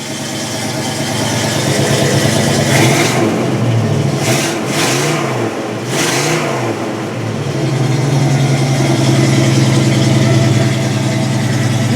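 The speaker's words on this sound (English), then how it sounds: "Give her a little gas here. Let me rev her up a bit." A 1965 Oldsmobile engine idles and revs through a newly fitted exhaust, a loud deep rumble that swells in a few quick throttle blips before settling back to a steady idle, with no talk over it.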